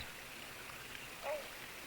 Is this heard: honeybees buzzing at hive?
no